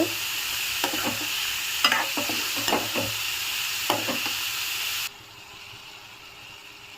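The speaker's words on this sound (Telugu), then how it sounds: "కొంచెం ఫ్రై అవ్వాలి బాగా క్యారెట్" Carrots fry in a pan with turmeric and salt, giving a steady close sizzle broken by several scraping stir strokes; the sizzle drops sharply to a faint hiss for the last two seconds.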